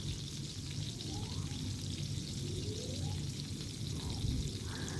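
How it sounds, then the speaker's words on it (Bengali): Pointed gourd (potol) frying in hot oil in a wok, a steady close hiss and crackle of sizzling that carries on evenly without a break, with no talk over it. "কড়াইতে তেল গরম করে পটলগুলো খুব ভালো করে আমি ভেজে নেব, উল্টে পাল্টে লাল লাল করে ভেজে নেব।"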